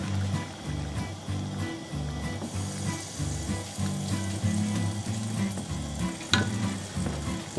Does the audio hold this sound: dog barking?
no